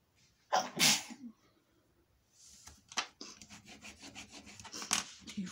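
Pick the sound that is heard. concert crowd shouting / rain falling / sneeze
sneeze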